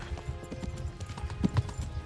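Horse hooves in the medieval video game Kingdom Come: Deliverance clop in a quick, steady rhythm at moderate loudness with no talking.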